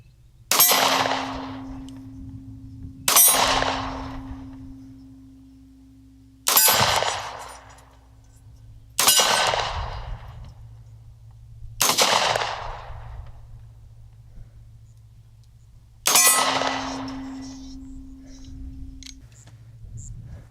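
Kimber Solo pistol firing at steel targets: six sharp, evenly spaced shots, each followed by a short metallic ring from the steel, with quiet gaps between and no talking.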